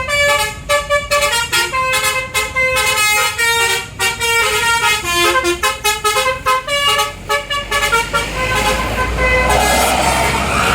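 Tour buses at the Borobudur Temple exit sound telolet basuri musical horns, playing rapid, loud, bright melodic toots in quick rhythmic bursts that run for several seconds before fading into engine and traffic noise.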